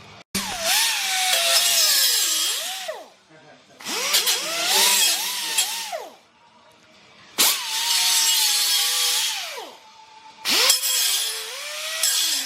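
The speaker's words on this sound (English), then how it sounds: "we ended up cutting both left and right pipes" Loud bursts of power-tool cutting through the steel exhaust pipes of a 2011 Silverado during a stainless cat-back install, four long whining cuts with a shifting motor pitch and short pauses between them.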